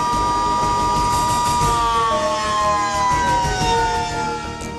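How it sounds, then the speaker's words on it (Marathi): A civil defence siren is tested in Mumbai, loud and steady, its wailing tone slowly falling in pitch over a dense rumble of traffic and city noise. "मुंबईत एकाच वेळी 60 ठिकाणी सायरन टेस्टिंग."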